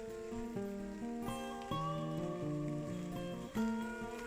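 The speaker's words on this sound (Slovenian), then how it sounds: "V bistvu ne dežuje, no, v bistvu kaplja." Water dripping steadily like light rain outdoors, a run of close, distinct drops and taps over a soft background, with no talking.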